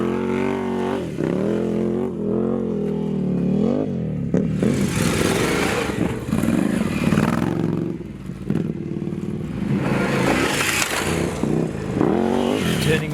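Ducati Scrambler motorcycle ridden on rocky single track in the Alabama Hills, engine revving up and down through tight turns with bursts of throttle, loud and close, plus occasional rattles over rough ground.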